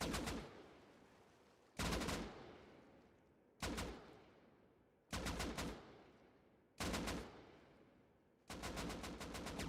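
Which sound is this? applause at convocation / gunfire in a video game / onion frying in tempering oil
gunfire in a video game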